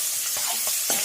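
Soaked chickpeas frying in hot oil in a pan, a steady close sizzle with soft periodic scrapes of stirring, no voices.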